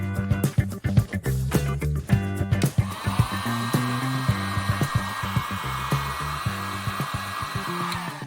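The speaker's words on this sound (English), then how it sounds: "So that heat shrink's really got that tight and sealed that in again now." A heat gun blows hot air over heat shrink tubing on a cable connector during an e-bike conversion of a full-suspension mountain bike. A few knocks and handling sounds come first, then a steady, close, loud blower roar runs to the end.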